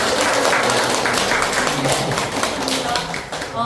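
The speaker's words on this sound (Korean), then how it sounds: "작가님께 힘찬 박수 한번" Audience at a Korean essay-writing lecture at Pukyong National University claps for the visiting author, a dense, steady patter of applause filling the room for several seconds, with murmured voices mixed faintly underneath.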